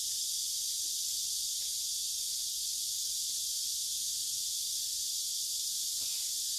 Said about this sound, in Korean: 여름에만 들리는 매미 소리가 정겹고 좋긴 한데 아침잠을 너무 일찍 깨워요.